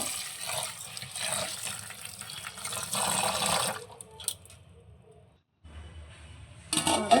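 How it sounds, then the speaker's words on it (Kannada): About two glasses of rice are being washed in water for neer dosa. Running water splashes steadily, then fades into a brief silence before resuming loudly. "ಎರಡು ಗ್ಲಾಸ್ನಷ್ಟು ಅಕ್ಕಿನ ತೊಳೆದು ನೆನೆ ಹಾಕ್ತಾಯಿದ್ದೀನಿ"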